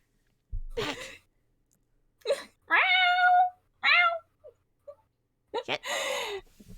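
A person imitates a cat, letting out several drawn-out, wailing meows with short breathy bursts between them, close and fairly loud during a cartoon-style tabletop role-playing game session.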